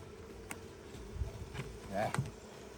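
Honeybees buzz steadily around a hive being removed from a 1950 Chevy pickup, with a few louder close passes and faint handling knocks over a continuous low insect drone.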